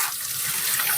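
Tomatoes rinsed under a running kitchen tap, a steady close hiss and splash of flowing water with no pauses.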